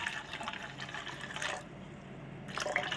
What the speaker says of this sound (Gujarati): હવે નાખી દેવાનું પાણી